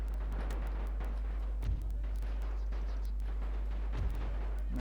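Gunfire rumbles through a Napoleon: Total War Great War Mod battle, a dense continuous roar of distant rifle and artillery fire with a couple of heavier booms breaking through.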